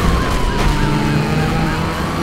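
Wailing police siren from a pursuing cop car during a video game chase, loud and close, its pitch sweeping slowly up and down over a steady engine drone.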